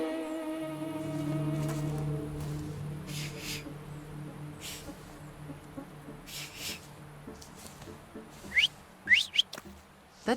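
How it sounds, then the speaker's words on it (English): Whistled notes from a character in the video game The Thaumaturge, a few rising chirps near the end over a steady low musical backdrop with faint chatter. "So, have you mastered whistling?"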